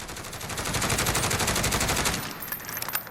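A SIG 556 PDW fires in Call of Duty Modern Warfare: one sustained rapid burst of about two seconds, loud and close, then a short echoing tail with scattered clicks. No voices.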